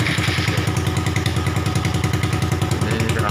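Honda Satria FU motorcycle with a replaced starter bendix, its electric starter engaged: a steady, rhythmic mechanical churning with regular pulses, loud and close, running unbroken with no talk.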